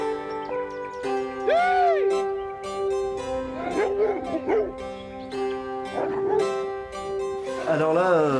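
Anglo-Français hunting hounds, large tricolour scent dogs, bay and yelp close by in a series of howling barks and whimpers, with people talking underneath.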